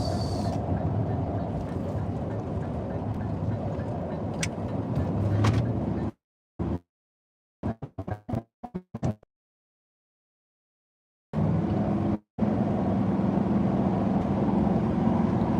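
Steady road rumble and engine drone of a car driving on a highway on an evening trip from New Jersey to Pennsylvania, continuous apart from a stretch of abrupt dropouts and near silence midway.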